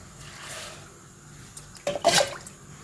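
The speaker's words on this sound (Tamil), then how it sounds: "அஞ்சு தண்ணி ஊற்றிக்கலாம்" Water is poured briefly into a pressure cooker pot of lentils and curry leaves, a short splashing burst near the end after a quiet stretch with faint clinks.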